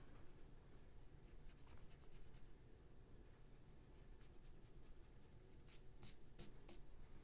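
A pencil scratches lightly and softly across paper, a faint, close, continuous rasp with a few sharper strokes toward the end, alone without any talking.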